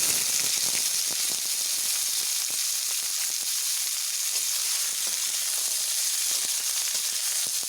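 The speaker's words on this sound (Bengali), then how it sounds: "কড়াতে আমি তেল দিয়ে নিয়েছি তেল আমার গরম হয়ে গেছে এবার আমি ডুমুরগুলোকে ছাড়ছি" Figs sizzle steadily in hot oil in a wok, a loud, close, continuous hiss and crackle with no talking.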